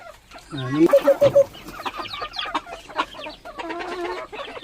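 Chickens in a rural Lao village setting cluck in a quick run of short calls near the microphone, followed by scattered softer clucks and bird chatter, with a person speaking nearby.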